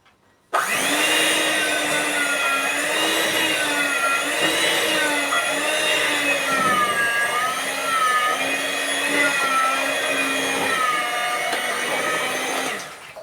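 Electric mixer beating muffin cake batter with milk added: a loud, continuous whirring drone that starts abruptly, wavers slightly in pitch as it works through the mixture, and then cuts off, with no talking over it.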